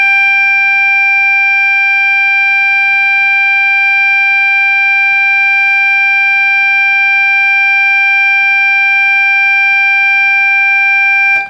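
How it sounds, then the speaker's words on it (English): The oscillators of a restored Moog Source synthesizer hold one steady, smooth tone without wavering. It is loud and close, with no one speaking, and cuts off at the end. "you can hear how great these oscillators are."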